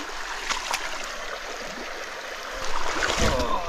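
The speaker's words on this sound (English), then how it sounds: "it's a cold creek crossing at night" Cold creek water rushes and splashes during a night crossing on a long run across Illinois, a steady broad wash that grows louder and more turbulent toward the end, with no clear talk.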